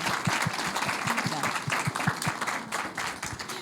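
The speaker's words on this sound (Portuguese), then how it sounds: "Salva de palmas para a dona Delice" A crowd gives a sustained round of applause for Dona Delice, dense and continuous at moderate loudness, with some rhythmic clapping in the mix.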